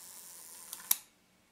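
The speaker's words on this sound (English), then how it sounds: "if I press the shutter button" A Voigtländer Vitessa camera shutter is released on its slow gear, a faint mechanical whir ending in one sharp metallic click, close up, then quiet.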